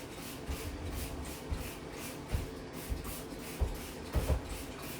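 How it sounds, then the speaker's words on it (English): A scrubber works around the crease of a bathroom sink with a continuous close rubbing, scraping texture, marked by several brief stronger strokes and knocks. "I like to go in first with my scrubber and just get down around in the crease"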